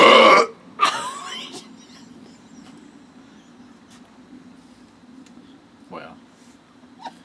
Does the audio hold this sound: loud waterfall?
no